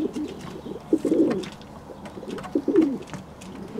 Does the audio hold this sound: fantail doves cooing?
yes